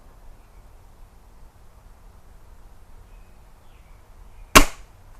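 An air gun pellet smacks a shooting target with one sharp crack near the end, after several seconds of near silence.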